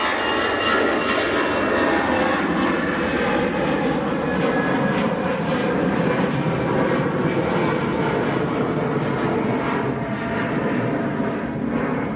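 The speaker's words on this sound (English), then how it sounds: "Touching down now, Ryanair from Katowice" Ryanair jet arriving from Katowice touching down at Manchester Airport: a loud, continuous engine roar with whining tones, steady and close, holding strong across the whole stretch.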